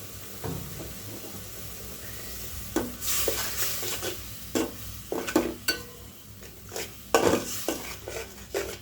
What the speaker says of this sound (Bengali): আজকে মরিচগুলো ভালো করে কষা নিব মরিচ মশলাগুলো